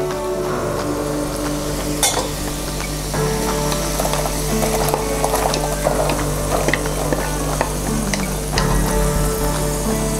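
Half a cup of chopped shallots frying in hot coconut oil for a Kerala crab roast, a dense, steady sizzle with frequent clicks and crackles that runs loudly for the whole stretch, with no voices.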